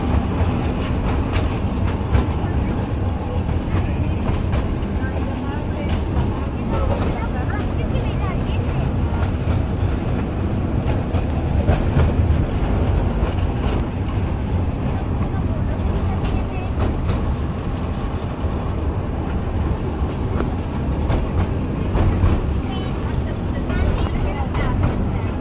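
A toy train runs on a small track at a rail museum in Delhi, a continuous close rumble with faint rhythmic clatter, under a person talking.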